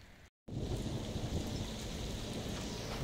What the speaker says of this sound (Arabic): عشان تشوفون كمية الامطار شلون وصلت عندنا الحين